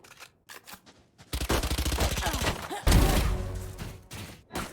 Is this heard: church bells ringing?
no